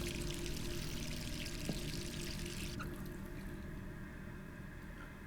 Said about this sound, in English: the sink's on. Let's turn off that sink.